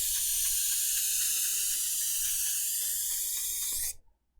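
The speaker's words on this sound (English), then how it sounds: "after it builds up some paint up in here and we spray it out, it's going to kind of shoot out the paint" An airbrush sprays paint onto a Thanos model in a steady, loud hiss that runs without a break for about four seconds and then cuts off sharply into silence.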